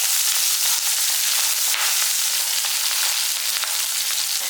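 Small shallots and green chillies sizzle steadily in hot oil in a pan, a dense continuous frying hiss held at close range for the whole stretch with no voices over it.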